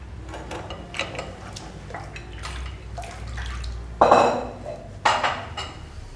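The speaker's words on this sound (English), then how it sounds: "we pour it through a sieve to make it nice and smooth" A smooth egg and coconut cream custard mixture pours through a metal sieve into a bowl with a continuous soft liquid trickle, marked by two sharp clinks of utensils against the sieve or bowl.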